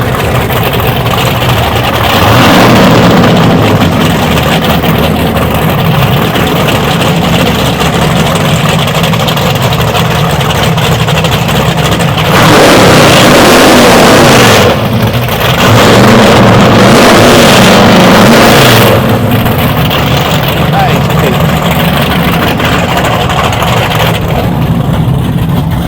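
Twin 9.1 litre V8 engines of a Cigarette 36 Gladiator powerboat run loud and steady at idle, a continuous deep rumble with the throttle swelling briefly a couple of times.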